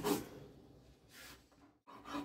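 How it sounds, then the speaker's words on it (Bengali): Cumin, peppercorns and ginger being ground into a paste on a grinding stone, rough rasping strokes coming in short bursts with a brief pause, close and fairly quiet. "এবার আমি এই সাদা জিরে আর গোলমরিচ আদার সঙ্গে বেটে নিচ্ছি।"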